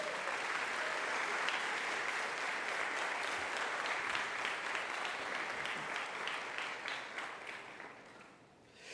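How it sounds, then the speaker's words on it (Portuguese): A church congregation claps loudly for the Lord during a sermon, a thick, sustained roar of many hands that stays strong and even before thinning and fading toward the end. "Eu quero ouvir um aplauso bem forte ao Senhor."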